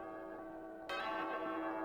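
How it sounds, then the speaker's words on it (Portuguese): A church bell rung by a sacristan during a novena service strikes once partway through, its bright ringing tone swelling and sustaining over a quiet hum. "Toca o sino, sacristão."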